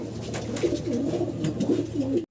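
A high flyer pigeon coos in a steady run of low, soft, rolling calls close by, with no talk.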